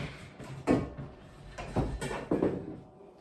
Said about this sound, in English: so I'm going to shut my door real quick.